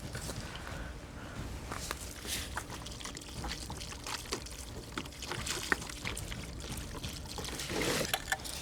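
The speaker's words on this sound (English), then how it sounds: "I think I'm gonna need to pour more water." Water is poured steadily for several seconds during a mud test with a piston kit, a close, continuous trickling and splashing with small irregular bursts and no voices.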